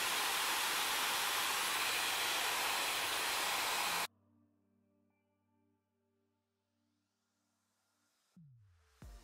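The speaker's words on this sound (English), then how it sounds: "I'm just gonna blow dry it a little bit." Dyson hair dryer with a diffuser blowing on hair at the cool setting, a loud steady rushing hiss for about four seconds that cuts off abruptly, followed by quiet low hum and a brief clatter near the end.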